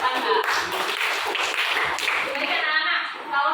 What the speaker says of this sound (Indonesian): Tepuk tangan untuk kelas 8A.